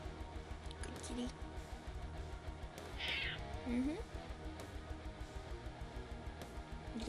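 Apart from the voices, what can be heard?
cat meowing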